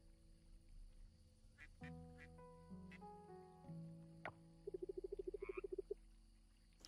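Near the end, a quacking creature in the Coral Island video game lets out a rapid run of about a dozen quacks. Steady game music and chimes play under it, with no talking.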